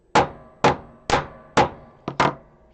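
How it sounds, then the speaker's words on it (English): Hammer texturing a leather bracelet charm, struck with the reversed hammer head: six sharp, close knocks at a fairly steady pace, with a quick double hit near the end and no talk. "I just turned my hammer around, and I'm wanting to create some"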